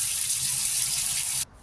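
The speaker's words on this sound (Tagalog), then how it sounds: "ito ay huhugasan lang natin ito para malinis" Tap water runs in a steady, close gush while duck eggs are washed, then cuts off abruptly near the end.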